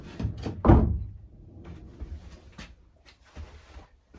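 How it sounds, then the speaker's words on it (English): A barn-style door in an off-grid cabin with tin and shiplap interior swings shut with one loud thump, followed by softer knocks and rattles of the latch and panel settling. "Close this door."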